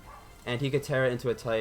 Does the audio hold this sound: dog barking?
yes